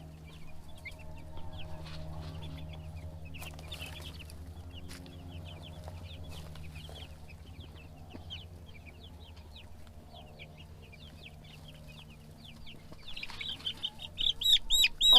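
Young meat bird chicks in a brooder, a steady stream of high, thin peeping and cheeping over a low hum, with the chirps growing louder and more insistent near the end.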